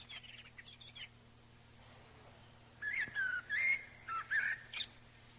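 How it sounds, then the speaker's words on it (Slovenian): Birds sing in a small village, with several bright whistled phrases and chirps close together, preceded by softer twittering over a low steady hum. "ptički nam pojejo"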